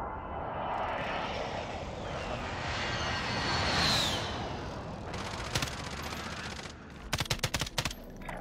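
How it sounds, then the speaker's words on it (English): An airstrike in an online shooter: a jet engine roar swells and sweeps overhead, then bursts of rapid gunfire and sharp impact cracks clatter near the end, fairly loud with no talk. "Airstrike down"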